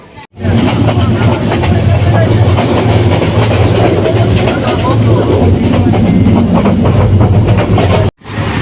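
A train bound for Dhaka runs on rails in Bangladesh, a loud, continuous close rumble with rattling clatter that holds steady throughout, briefly cut off at the start and end.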